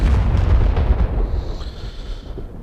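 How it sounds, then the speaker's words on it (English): An aircraft blows up in the DCS flight simulator after staying in a no-fly zone: a loud, deep, rumbling blast that rolls on and slowly fades over a couple of seconds. "I've exploded because I didn't leave the zone"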